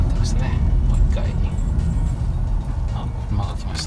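A car passes by on a road near a 2010 Toyota Alphard with a 2AZ-FE engine, its tyre and engine noise a low rumble under someone talking nearby.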